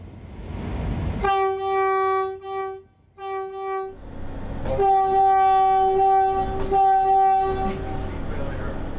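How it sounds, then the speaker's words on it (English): A new Caltrain train horn sounds two short chord blasts, then a longer sustained blast that shifts pitch partway through, at a maintenance facility. It is loud and close, with engine rumble underneath. "New trains also mean new horns, and if you ask really nicely, they'll let you do this."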